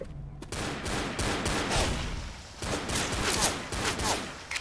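Rapid shotgun and gunfire blasts in the Left 4 Dead video game, a dense volley of loud repeated shots over a busy combat din.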